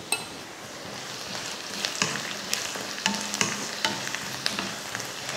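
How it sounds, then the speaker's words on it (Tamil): Onions sauté in a pan for a tomato wheat rava breakfast dish, a steady soft sizzle with occasional light clinks and scrapes of a stirring spoon, close and moderately quiet. "நல்லா இந்த அளவுக்கு வெங்காயம் வதங்கிக்கிட்டால் போதும்"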